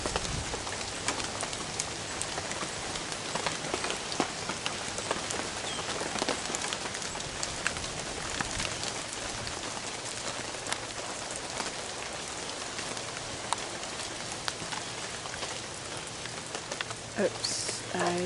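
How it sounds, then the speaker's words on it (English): Steady rain pours onto a canopy umbrella and a weather-treated wooden roof, a dense continuous patter of drops that stays loud and even throughout, with no talking. "on a rainy day."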